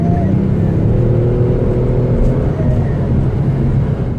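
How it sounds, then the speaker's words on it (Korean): A Kia Stinger 3.3 GT on the move puts out a continuous low engine drone through its sound generator, steady and fairly loud throughout, with road rumble beneath it. "근데 이제 달릴 때는 사운드 제너레이터에서 듣기 좋은 소리를 조율을 해가지고 내보내 줍니다."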